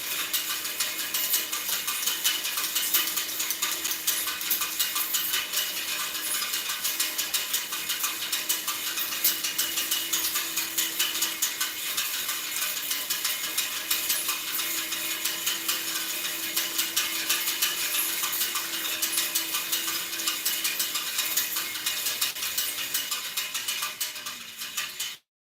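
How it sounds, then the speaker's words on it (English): An induction motor strains under load while ratcheting gears clatter in a steady, dense, loud mechanical rattle that runs without pause before cutting off abruptly at the end; no one speaks. "It's just the induction motor is not making enough power to do the job"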